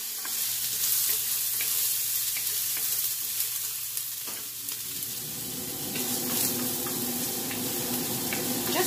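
Chopped green onions sauté in a pan with a soft, continuous sizzle, while a utensil stirs and scrapes them with intermittent clatter.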